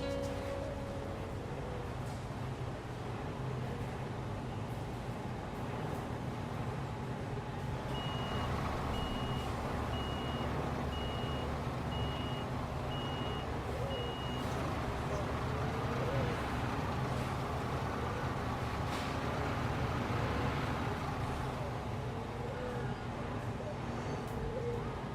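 A construction vehicle backs up and parks in Construction Simulator 2, a steady reversing beep pulsing in a regular pattern over a constant engine drone and ambient wind, with faint talk occasionally underneath.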